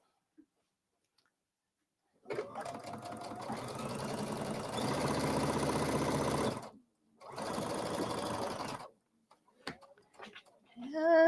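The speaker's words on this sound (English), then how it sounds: "We are doing semicircular stitching for the turning hole." A sewing machine sews semicircular stitching around a turning hole in two sustained runs with a short pause between, a steady close mechanical whir and ticking, followed by a few faint clicks.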